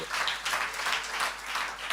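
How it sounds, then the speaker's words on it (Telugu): A church congregation claps hands in praise, a brief burst of dense applause from many people that rises and falls in loudness. "చప్పట్లు కొట్టు దేవునికి స్తోత్రాలు."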